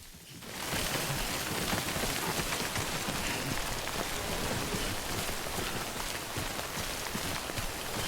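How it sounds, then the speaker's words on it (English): Rain falling in the video game Death Stranding, a dense, even wash of drops striking the ground that starts abruptly and stays loud and constant, with no voices over it. "somebody left a note that it's raining"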